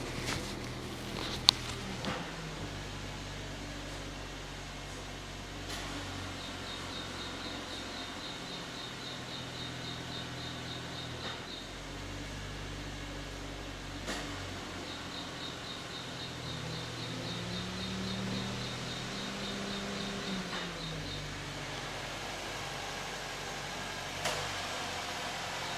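A Honda Amaze with a CVT transmission is held at 1500 RPM, giving a faint, steady engine hum with a repeating high chirping whine that comes and goes.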